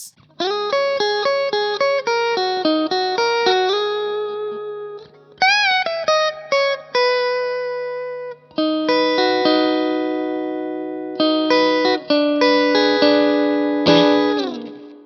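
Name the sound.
electric guitar played straight into amp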